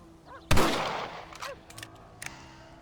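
A single loud rifle shot in Red Dead Redemption, a sharp crack with a decaying tail, followed by fainter clicks and handling noises.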